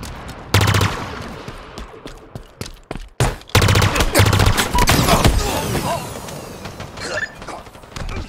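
Rapid bursts of automatic machine gun fire in the Halo Infinite video game crackle in several loud clusters, with mechanical clatter and other battle effects between them.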